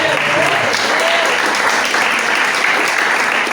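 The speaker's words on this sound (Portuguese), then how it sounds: "Você pode aplaudir o Senhor novamente?" A church congregation claps together in loud, dense, sustained applause that fills the whole stretch, with voices faintly mixed into the clapping.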